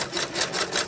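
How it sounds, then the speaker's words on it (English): A sewing machine running steadily, its needle ticking in a fast even rhythm, close by and moderately quiet. "back to my regular sewing machine"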